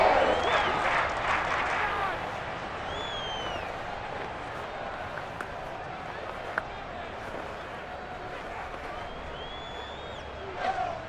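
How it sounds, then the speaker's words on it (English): A stadium crowd applauds and cheers for the defense in a Cincinnati Bengals vs Chicago Bears NFL game. The noise is loudest at the start, then fades to a steady murmur beneath a commentator's talk. "How about some applause for the defense there?"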